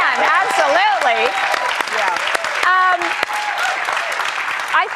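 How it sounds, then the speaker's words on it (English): An audience claps steadily beneath someone speaking loudly over it, with the clapping audible throughout the talk. "yes, you can clap to that."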